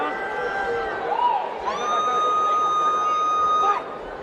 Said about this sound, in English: The piercing screams of Edwards' cheer squad behind us.